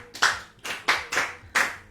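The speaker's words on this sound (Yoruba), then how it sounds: "ẹ pàtẹ́wọ́ fún un." Children clap their hands in a Yoruba children's programme, giving four distinct, fairly loud claps at an uneven pace with no voices in between.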